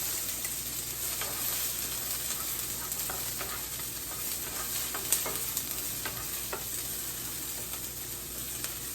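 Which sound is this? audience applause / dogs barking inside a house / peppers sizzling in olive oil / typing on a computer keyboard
peppers sizzling in olive oil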